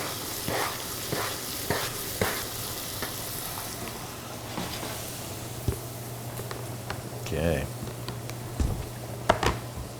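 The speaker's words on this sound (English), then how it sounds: "we're going to put our onions in the butter and garlic" Chopped onions and garlic sizzle in melted butter in a pan, a steady frying hiss with occasional spatula taps and scrapes, heard close up, and someone talks briefly over it.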